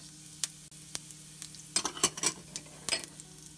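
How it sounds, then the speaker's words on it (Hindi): Carom seeds hit hot oil in a pan with a faint, crackly sizzle of scattered pops and ticks that grow denser partway through, quiet and close with no talking. "अब एक पैन में हम ऑयल डालेंगे अब हम अजवाइन डालेंगे सबसे पहले"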